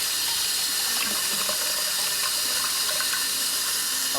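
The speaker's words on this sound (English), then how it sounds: "I'm gonna add with 2 cups of water." Two cups of water poured from a measuring cup into a pot for a Puerto Rican chicken stew, a steady hissing, splashing stream running at an even level throughout.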